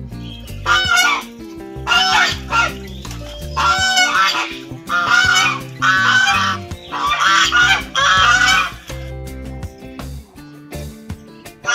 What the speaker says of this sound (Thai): ลูกเป็ดก็โตมากๆแล้วนะคะกินเก่งด้วยนะคะกินข้าวเปลือกได้แล้วนะ